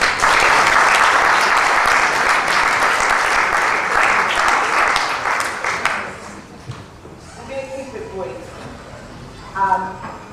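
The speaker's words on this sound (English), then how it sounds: "We'll give them a round of applause." Audience applause as three guests join the stage, a dense wash of clapping for about six seconds that fades away, followed by a voice speaking.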